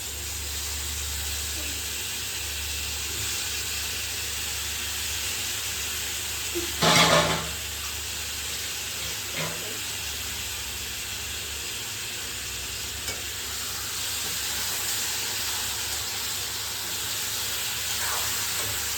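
Chicken pieces frying in a hot pan give a steady, even sizzle that fills the whole stretch, with a brief louder clatter partway through as the food is stirred.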